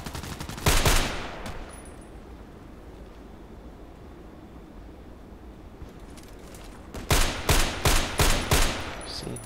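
Video game gunfire comes in two bursts, a short rapid volley near the start and a longer run of sharp, loud shots near the end, with a quiet background drone between them.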